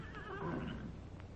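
A distant horse whinnies once, a thin wavering neigh over steady background hiss.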